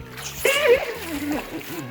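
Water sloshes and splatters out of a pre-primed siphon hose as it is flung from a rainwater catchment tank, one short burst of splashing with a faint voice underneath.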